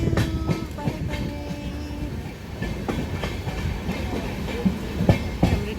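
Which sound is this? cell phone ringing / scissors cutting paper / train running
train running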